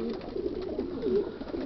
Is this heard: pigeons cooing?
yes